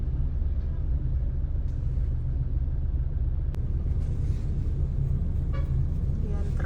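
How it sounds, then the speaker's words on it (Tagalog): Steady heavy road traffic rumbles in a constant low drone, with engines and occasional horn toots from cars, buses and trucks in a jam near an accident, while a voice talks over it. "Yan, traffic."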